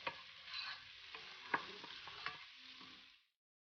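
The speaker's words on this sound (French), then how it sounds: "On fait en sorte de bien remuer jusqu'à ce que nos oignons deviennent translucides" Onions frying in a pan and being stirred, with soft sizzling beneath scraping and clicking spoon strokes, close and fairly quiet before the sound stops abruptly near the end.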